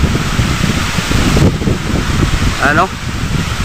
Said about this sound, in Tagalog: lakas ng hangin guys oh. Halos matumba yung niyog.